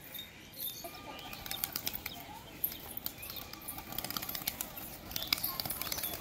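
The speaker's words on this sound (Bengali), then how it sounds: "দেখুন আমার ভাইপো উড়াচ্ছে পায়রাটাকে" A pigeon's wings flap in a rapid, rustling flurry as it is flown, with repeated soft beats continuing throughout against a faint outdoor background.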